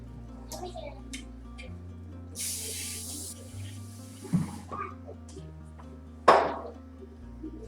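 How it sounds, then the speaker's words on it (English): Cooking spray hisses onto two square baking pans in a home kitchen, one long spray burst followed by a shorter one, with a voice and household sounds around it. "I'm going to spray them with my cooking spray"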